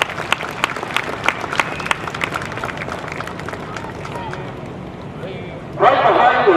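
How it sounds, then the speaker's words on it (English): Scattered, uneven claps ring out from a parade crowd honoring veterans outdoors, with background voices throughout and a louder burst of voices near the end. "Let's give a nice round of applause to our veterans here"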